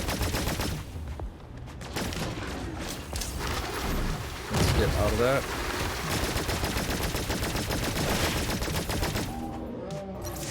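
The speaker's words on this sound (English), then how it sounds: "We have a little extra drone that shoots minigun." A drone's minigun cannon fires in the sci-fi game Cygnus Enterprises, sustained rapid gunfire bursts mixed with heavy thuds and game effects, while someone talks briefly over the fighting.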